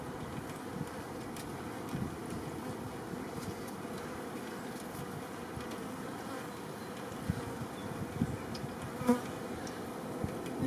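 Honeybees buzzing around an opened hive during a spring inspection, a steady, fairly faint drone with occasional individual bees passing close to the microphone, no talking.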